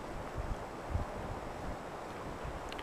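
Wind blowing outdoors on a backpacking trip, a low, steady rumbling gust buffeting the microphone with a few soft thumps, fairly faint and with no talking.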